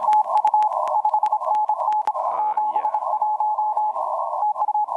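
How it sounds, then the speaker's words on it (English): Morse code telegraphy from a contest on the 20-meter ham band, received over radio: a steady tone around one pitch keyed in rapid dots and dashes, loud and continuous, with faint background noise and clicks. "that's actual Morse telegraphy from a contest that is running on 20 meters at the moment"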